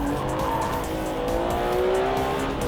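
A Ferrari 599 GTB Fiorano is driven hard on a track, its engine note climbing steadily with tires squealing, loud and close throughout.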